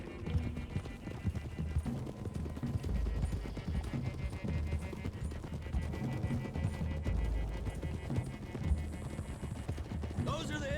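Continuous clip-clop of horse hooves in the video game Red Dead Redemption 2, beneath a dense layer of music and ambience, moderately loud throughout.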